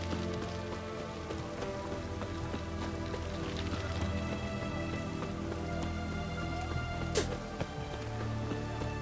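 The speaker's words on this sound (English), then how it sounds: "What a downpour." Heavy rain pours steadily over a medieval town in The Witcher 3, a dense continuous hiss of drops on surfaces with faint background game ambience and no voices.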